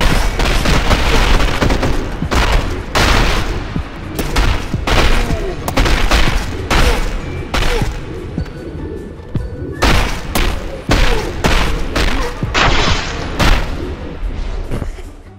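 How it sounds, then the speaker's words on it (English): Heavy gunfire blasts in a loud, continuous barrage of booming shots and thuds, close and dense, filling the whole stretch without pause. "Gun mode activated."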